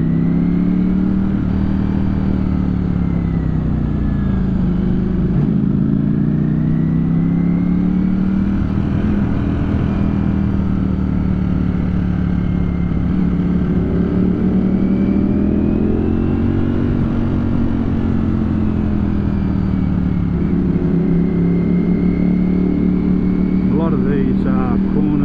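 A 2021 Ducati V4 Streetfighter motorcycle rides through mountain bends, its engine droning continuously and loudly with rising and falling pitch as it works through the corners, with wind noise throughout.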